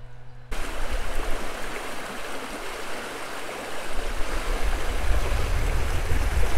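A small countryside stream in full spring flood rushes past close by, a dense, continuous roar of churning water that starts abruptly and swells louder toward the end, with no talk.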